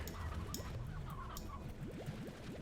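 Chickens cluck in the Slime Rancher video game, a few short clucks and warbling calls repeating over a steady low background hum, moderately close and without any talking.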